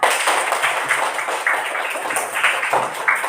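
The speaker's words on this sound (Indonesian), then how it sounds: "tepuk tangan semuanya Bapak Ika" A classroom group claps for Bapak Ika, with a close, steady burst of many hands patting together for a few seconds and no talk over it.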